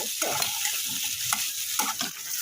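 Pointed gourd frying in oil in a pan, a close steady sizzle overlaid with repeated scraping and knocking of a spatula as the pieces are stirred.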